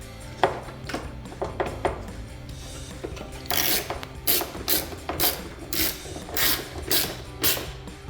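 Ratchet driving 7mm bolts back into a Camaro rear bumper, a series of quick clicking ratchet bursts, faint at first then louder rhythmic strokes repeating about twice per second, close with no talk.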